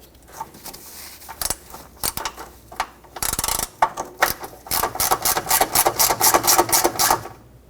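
A hand ratchet clicks steadily while tightening the bolt on a 2012-2019 Fiat 500 engine torque strut mount. Close, crisp pawl clicks come in uneven bursts and then settle into a fast, regular run of strokes.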